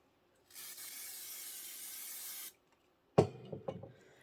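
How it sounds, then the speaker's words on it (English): A short steady hiss of KK100 spray adhesive on felt lasts about two seconds, then stops, followed by a few light taps and handling noises. "I'm going to give it a little shot of spray."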